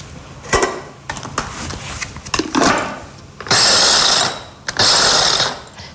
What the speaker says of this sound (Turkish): Elimizi kıymaya bulaştırmadan evvel valsomuzda bir avuç Antep fıstığını çekeceğim